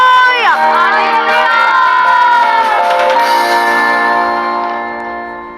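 A church congregation cheering and whooping loudly, a dense crowd roar with raised voices that holds steady and then tapers off near the end.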